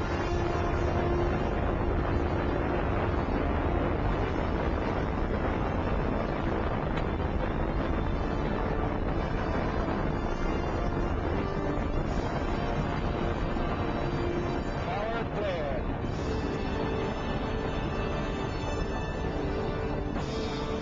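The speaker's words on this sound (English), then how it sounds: "Liftoff on Apollo 11." A continuous, heavy low roar and crackling rumble from the Apollo 11 Saturn V rocket at liftoff fills the whole span, steady and dense throughout, with faint distortion.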